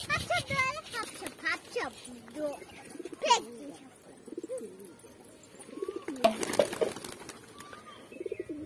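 Flock of pigeons perched near their feeding spot, with repeated throaty coos and scattered chirps, close and clear, under intermittent talk by a man.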